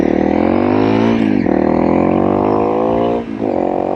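A Honda CRF 300 dual-sport motorcycle engine on the move, revving up through the gears with quick dips between shifts, loud and close, with no voices.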